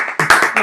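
A few people on a comedy podcast clap briefly, a short burst of loud, close, sharp claps in an uneven rhythm, with no talking over it.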